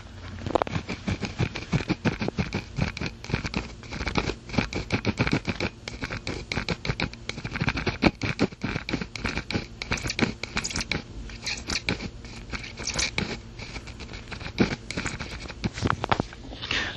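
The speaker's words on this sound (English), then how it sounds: "take notice that this pencil does have squeaky lead" Mechanical pencil with squeaky lead writing on paper: a close, continuous run of dense scratchy clicks and crackles from quick strokes, heard alone without talk.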